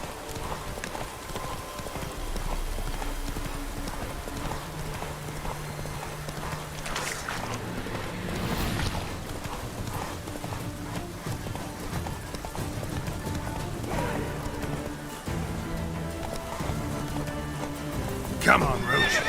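Roach, the horse in The Witcher 3, gallops with rapid drumming hoofbeats and neighs a few times, mixed with tonal game music and a voice speaking at points.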